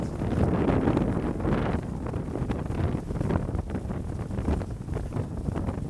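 Strong gusty wind roars into the microphone on a lake effect snow walk, a steady loud buffeting that swells and eases in gusts of around 20 to 25 miles an hour, with no voices.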